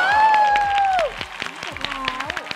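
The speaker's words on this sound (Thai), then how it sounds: "ปรบมือให้คาชิบ้าของเราค่ะ" Studio audience on a Thai home-shopping talk show applauds a product demonstration, a burst of clapping that follows a sustained tone and continues as sparse, scattered claps under lingering voices.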